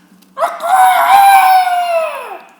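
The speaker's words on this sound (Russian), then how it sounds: "Петух в третий раз." A single loud rooster crow, a long rising and falling call held for about two seconds, close and clear.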